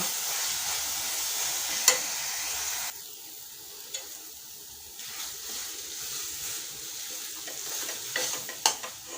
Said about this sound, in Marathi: हे खोबरं व्यवस्थित परतून घ्यायचं आहे जोपर्यंत त्याला घट्टपणा येत नाही तोपर्यंत